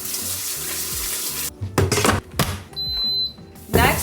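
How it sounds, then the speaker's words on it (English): Tap water running into a sink while rice is washed, loud and close, broken by clinks of dishes and pauses as the flow stops and restarts. "So wash your rice."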